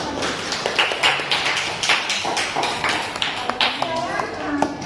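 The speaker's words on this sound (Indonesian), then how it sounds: "Tepuk tangan buat Mbak Puji" Applause for a speaker after a poem at a school event: a few seconds of quick, scattered clapping from a small crowd, with voices mixed in.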